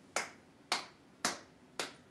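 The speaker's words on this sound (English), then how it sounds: "Will you help us with some clapping?" Four evenly spaced sharp claps or snaps, about half a second apart, crisp and isolated against a quiet background, led along at a children's birthday party livestream.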